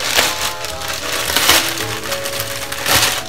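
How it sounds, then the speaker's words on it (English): A knife slits open the plastic packaging around a Trick or Treat Studios Captain Kirk mask, giving loud crinkling and tearing bursts that come up close in a few quick strokes, with no voices. "Got my trusty doctor knife. A slight incision."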